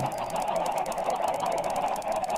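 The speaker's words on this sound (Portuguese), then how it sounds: "já tô ouvindo as galinhas loucas já" Clucking, squawking chickens chatter continuously in Minecraft, with a rapid rhythmic clicking layered over the noisy flock.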